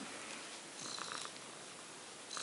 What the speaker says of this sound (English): It's a Siamese cat.